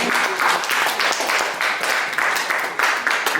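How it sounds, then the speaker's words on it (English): Church congregation clapping together in a steady, rhythmic pulse during a worship service, fairly loud and close, lasting through the whole moment without a break. "Give a clap for Jesus."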